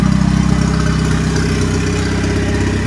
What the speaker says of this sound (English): So got the car idling a lot better than it was with some fueling changes.